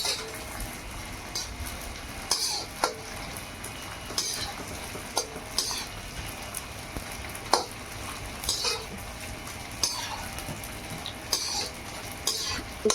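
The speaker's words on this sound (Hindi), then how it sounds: "ये मैंने गोंद डाला है देसी घी में, इसको मैं फुला रही हूँ" Edible gum (gond) frying and puffing in hot desi ghee, a steady close sizzle with bubbling, broken by several sharp clinks and scrapes of a spoon against the pan.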